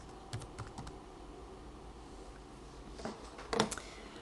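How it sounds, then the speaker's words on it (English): Typing on a computer keyboard: a few light keystrokes at first, a quiet pause, then a quicker cluster of clacks near the end, close and fairly soft. "we're going to just type something here"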